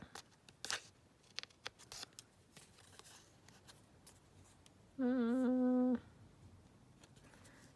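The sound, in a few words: scissors trimming collage master board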